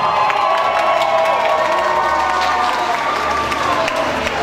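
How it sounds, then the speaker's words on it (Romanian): A crowd applauds and cheers steadily indoors at a school banquet, a dense wash of clapping and voices that continues without pause. "Domnul primar Cădelevii, aplauze"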